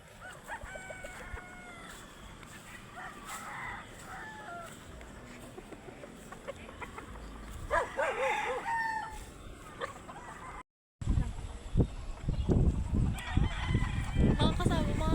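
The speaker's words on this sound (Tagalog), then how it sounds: "Kadapo na yung mga ano, mga manok dahil gabi na" Chickens settling in to roost at nightfall, with a rooster crowing several times and hens clucking at moderate distance, followed near the end by louder close handling noise and rustling.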